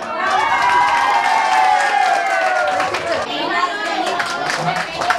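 A hall audience claps and cheers after a folk song performance at an event, dense sustained applause with crowd chatter and scattered voices mixed in.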